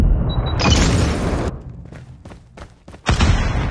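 A frag grenade goes off in an online multiplayer shooter match over a hardpoint: a loud, heavy boom and roar lasting about a second, fading into rumbling game noise, then a second powerful blast near the end.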